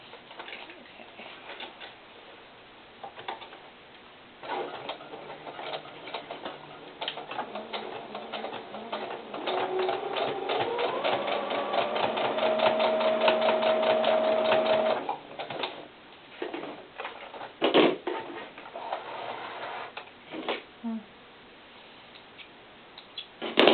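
Sewing machine stitching fur doll boots, a quick run of mechanical ticking and whirring that builds to a steady hum with a high tone mid-run, then breaks into scattered clicks and handling knocks; no talking.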